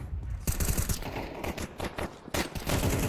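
AK rifle fire in a competitive video game match: rapid bursts of automatic gunshots, loud and close, firing in several clusters separated by brief pauses, with no speech over it.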